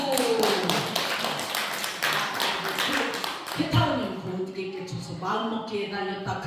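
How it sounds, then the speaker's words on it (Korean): A group claps together at a Korean Won Buddhist mind-study training session, a dense burst of rapid hand claps through the first few seconds, fading into voices talking afterward. "박수!"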